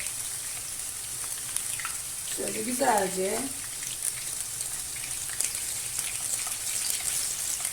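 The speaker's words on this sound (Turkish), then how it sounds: "İyice kızarsınlar şöyle mis gibi." Steady hissing and crackling of chopped garlic frying in hot oil runs throughout, with a brief stretch of someone talking in Turkish over it.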